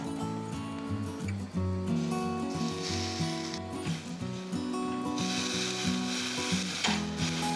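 Beef marinated in yakiniku sauce sizzles and crackles steadily on a hot grill, close up, with faint music playing softly in the background.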